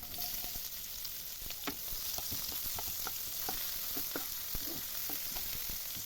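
Chopped onion frying in hot mustard oil in a wok, a steady quiet sizzle with scattered crackles and occasional stirring scrapes, no talking.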